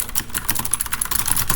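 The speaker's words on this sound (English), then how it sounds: "And now I can type" Fast, even clatter of keys on a computer keyboard, close and fairly loud, with no voice over it.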